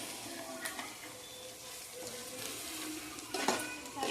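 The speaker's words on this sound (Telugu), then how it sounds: "ఇప్పుడు ఇదంతా బాగా మిక్స్ చేసుకోవాలి. పెరుగు ఆనియన్స్ కూడా ఫ్రై అయిపోతున్నాయి." Yogurt and onions for chicken dum biryani frying in a pan and being stirred, a soft continuous sizzle with scraping stirs and a louder clatter near the end, no speech.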